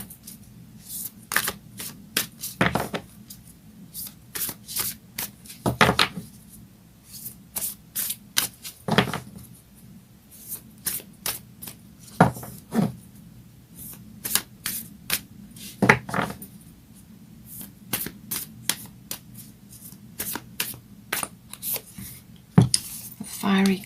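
Moonology oracle cards are handled and shuffled in repeated crisp riffling bursts with short pauses between them, close and fairly quiet, over a low steady background hum.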